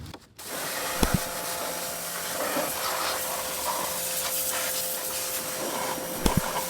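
A pressure washer blasts a car engine bay in a steady, loud, broadband hiss that runs nearly unbroken, with a couple of brief sharp knocks near the start and end.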